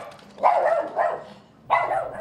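A house dog that barks at anyone entering the home gives three loud, close barks with short pauses between them.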